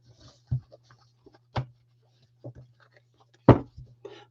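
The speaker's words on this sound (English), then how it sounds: "that way you can kind of see how the shuffling is" Oracle cards from a Whispers of the Ocean deck being shuffled by hand, larger and bulkier than usual cards: a few soft, separate papery riffles and taps spaced a second or so apart, close and quiet, with no talking.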